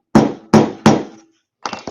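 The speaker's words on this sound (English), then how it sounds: "I have another oldie but goodie hammer right here. Little cross peen." A small, old cross peen hammer strikes three sharp, ringing blows in steady rhythm while riveting beads, then a lighter tap follows after a short pause, all close and loud with no talk.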